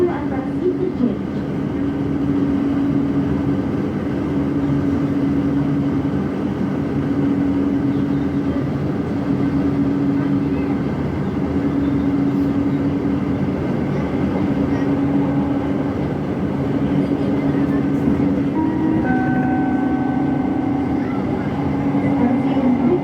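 Light rail train on the Jakarta LRT Cibubur line, heard from inside as it runs between stations: a steady rolling rumble with tonal motor hum that shifts in pitch near the end, constant and close, with no talking over it.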